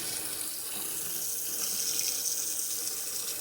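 Kitchen tap running steadily into a sink, a constant close hiss of flowing water with no change in level and no talk.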